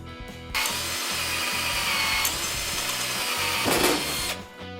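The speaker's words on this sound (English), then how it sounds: "and then we can start drilling." A power drill whirs steadily for several seconds, boring bolt holes through a steering wheel adapter for a VW Beetle close by, then stops.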